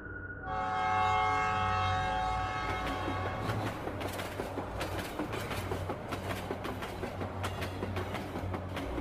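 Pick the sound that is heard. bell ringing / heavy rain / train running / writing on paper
train running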